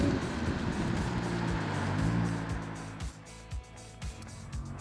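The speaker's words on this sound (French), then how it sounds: "Et toujours le son du V6." Audi R8 V10 plus sports car engine, a loud throaty rumble that holds steady, then drops away into a few short, sharp bursts and blips as the revs fall.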